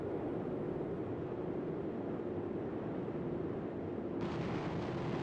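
A bomb explodes on its target in the Strike Fighters 2 combat flight game, heard as a continuous loud rumbling roar that holds steady throughout, with no talking.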